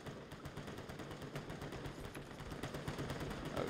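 Constant battlefield gunfire in the war game Call to Arms, a continuous stream of overlapping rapid shots at low level, distant and unbroken throughout.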